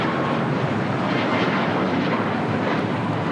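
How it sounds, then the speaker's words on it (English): United Airlines Boeing 737 MAX 9 departing LAX for Houston, a loud, steady jet engine roar throughout the short stretch, close and unbroken. "This is United Airlines 2237 taking off to Houston Intercontinental on a MAX 9"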